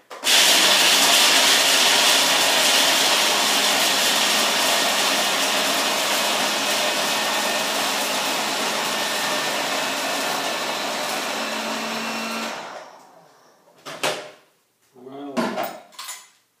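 A food processor whirs steadily for about twelve seconds as it blends macadamia pesto with lemon juice, loud and continuous, then stops and leaves a few short scraping and knocking sounds.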